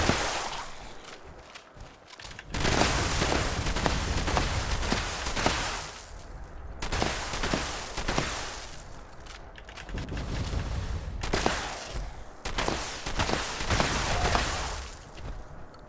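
Sustained bursts of automatic gunfire in Fallout 76, loud and dense with rapid rattling shots, broken by short pauses between several long volleys.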